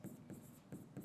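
Marker or chalk writing on a classroom board during a maths lesson, four soft scratchy strokes in a steady rhythm, close and quiet, with no talk.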